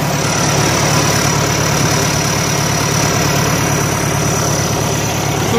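A forklift engine idles steadily with its turbo running, a loud, close, even rumble with a fine rapid throb and a high whine riding on top, unbroken and without voices.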